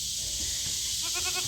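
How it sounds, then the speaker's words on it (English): Goats bleating in a farm pen, a quick cluster of wavering bleats near the end over a loud steady hiss of outdoor background noise. "There's our crazy goats."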